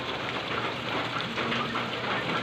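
Steady rain falling on tree leaves, a dense, even patter that continues without a break and no voices.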